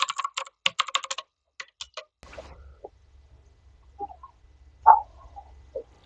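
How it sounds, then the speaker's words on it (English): Quick clusters of keystrokes clatter on a computer keyboard as a password is entered, crisp and close, followed by a few sparse clicks and soft knocks in a quiet room. "So let me type my password."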